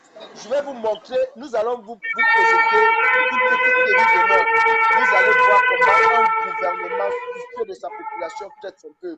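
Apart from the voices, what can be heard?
ambulance siren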